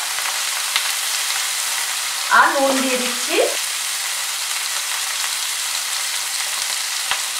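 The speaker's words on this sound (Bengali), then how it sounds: "খুব বেশি ডিপ ফ্রাই নয়, অর্থাৎ একটুখানি তেলের মধ্যে নাড়াচাড়া করে নেব" Shutki dried fish stir-frying in a little oil in a pan makes a steady, fine sizzle, with a brief scrape of stirring as a voice speaks over it partway through.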